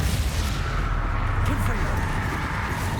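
The Confringo spell is cast in Hogwarts Legacy. Dense, rumbling, explosive blasts sound steadily throughout, close and loud, while a voice talks over them.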